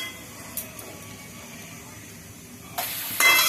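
Thin potato sticks for crispy aloo bhujia frying in hot oil: a faint background hiss swells abruptly into a loud, steady broadband sizzle near the end.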